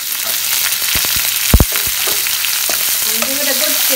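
Garlic, chilies and julienned ginger fry in hot oil while bhindi do pyaza is cooked, with a steady bright sizzle broken by sharp knocks of a utensil in the middle and scraping toward the end, no voices.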